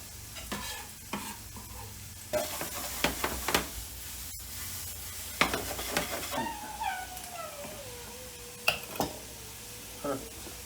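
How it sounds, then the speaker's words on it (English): Eggs frying in an omelet pan give a low, steady sizzle beneath clinks and stirring scrapes, with a rising, meow-like cry partway through. "Now that's frying."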